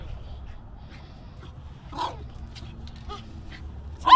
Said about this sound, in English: You always bark at him.